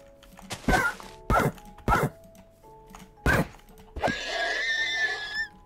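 Several sharp thuds land in an uneven rhythm, then a Minecraft horse gives a loud, drawn-out whinny up close.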